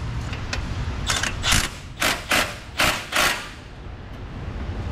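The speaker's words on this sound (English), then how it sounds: "A couple forward clicks." A ratchet wrench clicks forward in a handful of crisp, close mechanical bursts, spaced in short pairs, during car repair work on a Nissan with no talking.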